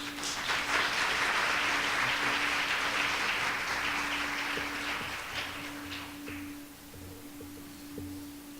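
An audience at an MLK event gives a round of applause for new mayor Andrew Ginther. The clapping starts full and steady, then thins and fades over the last few seconds, with a low steady hum underneath.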